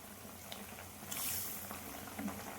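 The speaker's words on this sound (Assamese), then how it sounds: "এইখিনি উতলি আছে" Fish curry bubbling in a pot on the stove, a faint, steady simmer with soft patter and occasional small pops, heard alone at low level.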